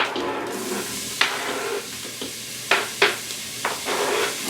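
Chopped onion hits the hot Instant Pot on top of browned meat and sizzles steadily and up close. Sharp bursts of crackle and clatter punctuate the sizzle as it is stirred in.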